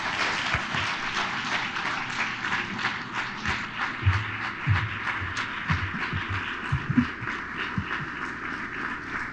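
A room full of people applauds steadily to welcome Governor Asa Hutchinson at a CSEdWeek kickoff event, dense continuous clapping holding for about nine seconds with a few louder claps near the end.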